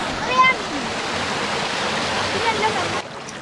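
Cold water in a remote hill stream rushes and splashes steadily nearby, a dense continuous hiss, with a person speaking briefly over it before it cuts off.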